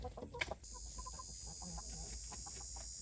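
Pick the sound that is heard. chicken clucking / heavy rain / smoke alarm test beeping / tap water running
chicken clucking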